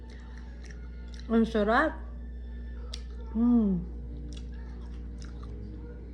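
Soft, close chewing of crunchy, sticky cooked dilis (dried anchovies) under a steady background hum, interrupted by two brief spoken phrases.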